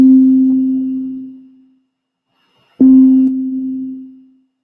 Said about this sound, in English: I'm just going to hit the key real quick, and you'll hear it start and then fade out.